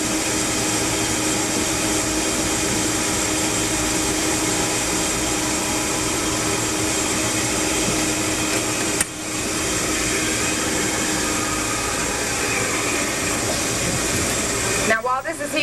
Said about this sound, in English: the reason you can heat things up in a Vitamix and you can't do it in a regular blender, that's the speed of a blender